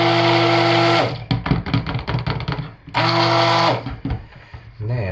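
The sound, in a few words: stick blender emulsifying soap batter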